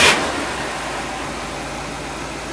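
A Ford car engine running after a spark plug change, a steady broadband idle drone that holds evenly throughout after a brief louder burst at the very start, with no voices.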